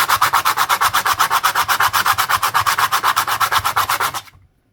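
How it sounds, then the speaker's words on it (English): Bronze Australian penny coin ring rubbed with sandpaper in fast, steady back-and-forth strokes, loud and close, stopping abruptly near the end. "I think this is the wrong sandpaper,"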